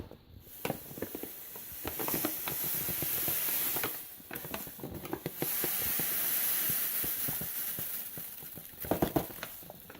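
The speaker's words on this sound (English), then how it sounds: "you dump your sugar," Two kilos of sugar pour from a bag into an old pot for bee syrup, a steady close hiss of tumbling granules that swells and eases over several seconds.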